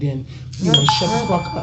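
A phone notification chimes over a man's speech, a couple of short bright tones ringing out mid-sentence.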